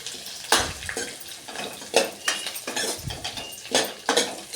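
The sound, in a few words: stirring spice masala into cooking cucumber curry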